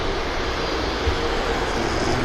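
A Ryanair jet touches down at Manchester Airport, heard as a steady, fairly distant broadband roar of engines and rushing air that stays even throughout, with no voices.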